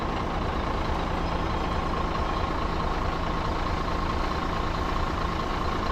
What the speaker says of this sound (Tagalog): Truck yun.